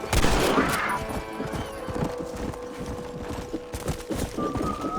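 Horse hooves gallop in Red Dead Redemption, rapid rhythmic thuds close and loud, mixed with bursts of gunfire in the game.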